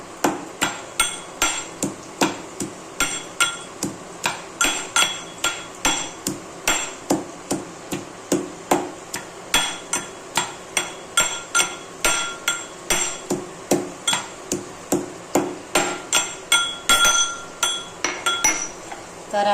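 Garlic and chilies are pounded with a pestle in a mortar for masala rice. Sharp, hard knocks come about twice a second in a steady rhythm, close and fairly loud, with no voice over them.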